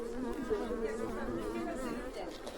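A dense, steady hum of many honeybees buzzing close up while a colony is moved from a nucleus box into a full hive, the drone filling the whole stretch without pause.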